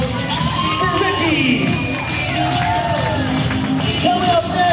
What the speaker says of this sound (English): big round of applause for Ricky